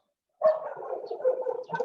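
A dog barks close and loud in a rapid string of barks and yips that begins abruptly after a short silence, with no talk over it.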